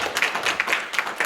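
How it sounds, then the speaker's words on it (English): Light, quick clapping from a few hands at a graduation ceremony, fairly quiet and brief. "we can give them a round of applause"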